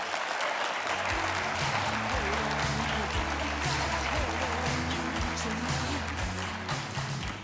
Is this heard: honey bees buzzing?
no